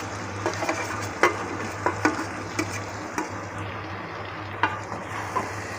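Fried potatoes being stirred into cooked masala in a pan for omelette curry, with a soft frying sizzle and repeated spatula scrapes and clinks at an irregular rhythm, no voices.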